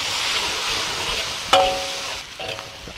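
Cooking wine (baijiu) hits a wok of doubanjiang red chili oil with Sichuan peppercorns and minced garlic, giving a steady broadband sizzle with a sharp burst midway as the liquid lands, then continued frying hiss.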